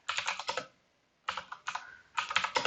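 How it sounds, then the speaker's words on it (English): Keys clatter on a computer keyboard as a git push command is typed, two quick bursts of close, crisp keystrokes separated by a short silent pause. "to do that type git push"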